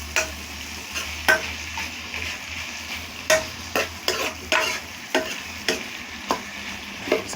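Meat stir-frying in a pan for Pangasinan pakbet, a vegetable and meat dish. A steady sizzle runs throughout, broken by repeated scraping knocks from a spatula at close range, with no talking.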